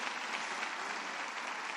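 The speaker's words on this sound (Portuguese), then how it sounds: "Pode aplaudir ao Senhor" A church congregation applauds, a steady wash of clapping hands at moderate distance that carries evenly with no voices over it.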